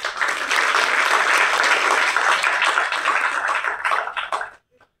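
An audience applauds at a Tamil movie audio launch, a dense, loud wash of clapping that holds steady for about four seconds before cutting off abruptly.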